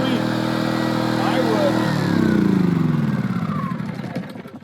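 An Erayak 4500P portable inverter generator runs with a steady close engine drone that shifts in pitch partway through, then gradually tapers and fades toward the end.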